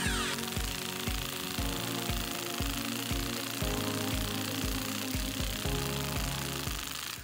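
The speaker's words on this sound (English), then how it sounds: "Now we're just going to take a half inch 6-point socket and shear off the bolt." A half-inch 6-point socket on a power tool drives the bolt of a Sicame TTD insulation piercing connector until it shears off, giving a loud, continuous rattling hammer of rapid impact blows throughout.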